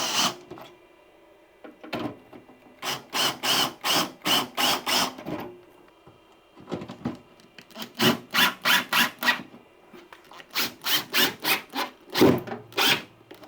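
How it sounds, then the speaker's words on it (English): Screws driven into wood with a power driver while wiring solar panels to a LiFePO4 battery, heard as close, loud runs of rapid rhythmic ratcheting pulses in three bursts separated by short pauses. "I just need to put some screws in here."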